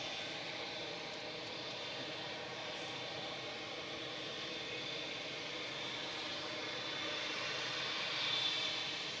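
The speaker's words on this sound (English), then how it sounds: "This is G2EM 787-9 Dreamliner." TUI Boeing 787-9 Dreamliner jet at Manchester Airport, a broad steady roar of engines heard from a distance, swelling slightly toward the end, with no voices.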